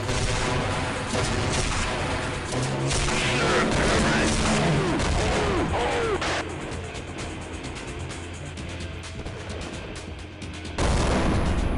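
Dense, continuous gunfire rattles through a Half-Life: Echoes firefight in loud, overlapping bursts of shots and booms, with a voice talking now and then underneath.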